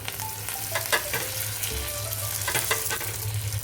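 Chopped garlic and curry leaves crackle in hot oil for a tadka, a continuous moderate sizzle with a few sharp spits and pops, steady and without speech.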